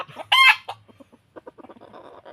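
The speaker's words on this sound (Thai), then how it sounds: "ไก่ยังตื่นอยู่นะครับ ตื่นมากนะครับ ไก่เพิ่งจับเมื่อคืนนะครับ" A recently caught white-eared fighting rooster lets out a loud, close crow, then a string of short, choppy clucks that fade in and out.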